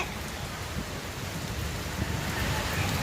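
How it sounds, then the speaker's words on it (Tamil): Heavy rain driven by strong wind hisses in a dense, steady wash of noise that holds through the whole short stretch, with no voices over it. "ரொம்ப காத்தடிச்சு மழை பெய்யுது"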